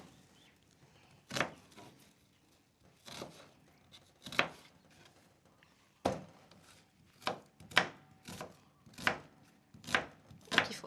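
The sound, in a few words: chopping an onion with a knife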